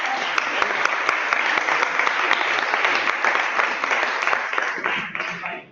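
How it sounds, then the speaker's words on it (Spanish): A room full of people applauds a quiz winner, with dense, steady clapping throughout that thins and drops off at the very end. "Un aplauso para Daniel, que es la pregunta ganadora"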